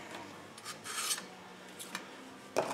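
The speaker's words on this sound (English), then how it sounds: "We're just going to scrape this side off too." A knife blade being scraped clean of stripper coating, heard as several close, dry rasping strokes in short bursts with pauses between them and no talking.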